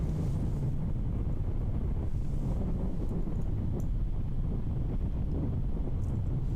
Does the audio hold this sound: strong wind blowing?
yes